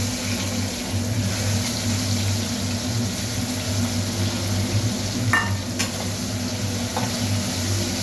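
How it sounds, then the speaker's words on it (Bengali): Onions frying in a pan with bay leaf and whole cumin for a Bengali egg curry, a steady low sizzle with faint stirring scrapes and a couple of brief clinks of utensil against pan. "এবার পেঁয়াজগুলোকে একটু লাল লাল করে ভেজে নেব।"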